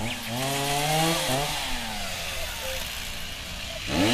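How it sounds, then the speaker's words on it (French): A chainsaw whines steadily with rising and falling pitch, moderately loud and nearby, heard alone through the stretch. "On dirait une tronçonneuse."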